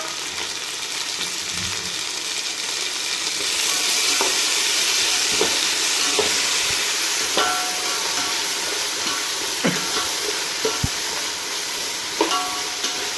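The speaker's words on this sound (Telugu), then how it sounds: "ఇది అల్లం వెల్లుల్లి ధనియాలు జీలకర్ర పేస్ట్ అండి. ఇందులో ఆయిల్లో వేసేసి ఫ్రై చేద్దాం దీన్ని కూడా." A ginger, garlic, coriander and cumin paste fries in hot oil for a dum biryani, giving a steady, close sizzling hiss broken by occasional clinks and scrapes of stirring.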